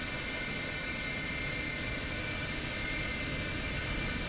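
Boeing 737-300 jet engines running in X-Plane 12 with the Mango Studios sound pack, a steady broadband roar with a faint high whine, constant and unbroken throughout with no talk.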